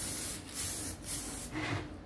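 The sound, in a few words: black spray paint being sprayed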